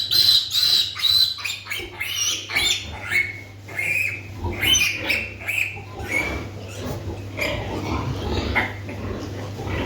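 Pigs grunt and squeal repeatedly at close range, high shrill squeals mixed with lower grunts over a steady background hum.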